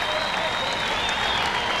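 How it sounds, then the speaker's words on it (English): Steady crowd applause at a 1996 Olympic women's softball game between Australia and Chinese Taipei after a home run, a dense, even wash of clapping with a commentator talking over it throughout. "good applause from the crowd, building up nicely here"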